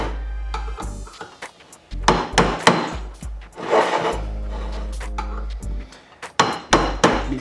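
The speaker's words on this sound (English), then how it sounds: "I'm going to get under them a little bit with this wood chisel" A wood chisel is worked under parts of a GS550 cafe racer motorcycle electrics tray, giving a series of sharp close knocks and scraping pries at an irregular rhythm, with brief pauses between bursts.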